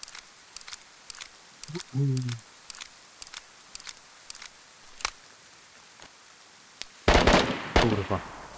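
Gunfire in the survival game DayZ, scattered sharp cracks of single shots popping around the player at varying distances, with a louder burst near the end; a voice speaks briefly amid the shots.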